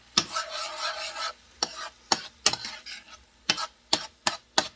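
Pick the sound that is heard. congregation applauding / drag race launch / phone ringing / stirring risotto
stirring risotto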